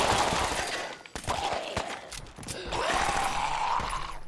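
Rapid bursts of gunfire in the video game Fallout 4: Far Harbor crackle through a busy, noisy mix, with sharp cracks scattered across a few seconds amid a constant hiss of action.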